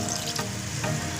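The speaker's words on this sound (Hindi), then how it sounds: "इसमें हम पानी डालेंगे जितने में हमारा कीमा गल जाए" Water poured from a tap into a pan of fried minced keema, a steady continuous rushing splash with a faint sizzle underneath, close and even throughout.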